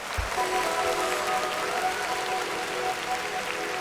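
Sustained applause from a group, a continuous even wash of many hands clapping at steady loudness from start to end, with a faint tonal hum running underneath.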